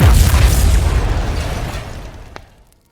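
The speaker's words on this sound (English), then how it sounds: "the energy creates a huge explosion" A huge, loud explosion tears through the command center, a sustained roaring boom that rumbles for nearly three seconds before fading into silence, with a brief sharp crackle near the end.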